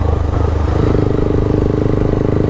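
Rusi KRY 150cc motorcycle ridden solo through Poblacion in Dalaget, Cebu, its engine giving a steady, close, continuous mid-pitched drone with a faint rattle throughout.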